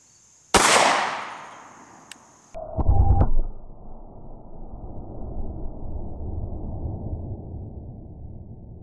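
A .45 pistol fires Federal HST rounds into ballistics gel: one sharp, loud report, a second blast about two seconds later, then a low lingering rumble and faint background noise afterward.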